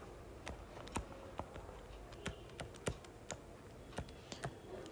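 Fingers tap irregularly on a computer keyboard, producing faint, close key clicks in short uneven runs over a quiet background hum, with no voices.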